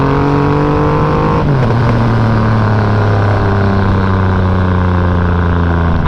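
A Triumph Rocket 2.5 litre muscle cruiser motorcycle accelerates hard on an outdoor ride, its loud, close engine note holding steady, dipping briefly at a gear change, then climbing again in pitch.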